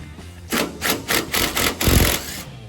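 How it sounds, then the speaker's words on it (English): A DeWalt power tool spins off 10 millimeter bolts from the exhaust of a 1973 VW Beetle, a series of about six quick rattling bursts in close succession, close and fairly loud with no speech. "those bolts are just 10 millimeter. Get those pulled off, just using the DeWalt again, getting those out of here."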